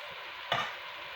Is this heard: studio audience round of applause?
no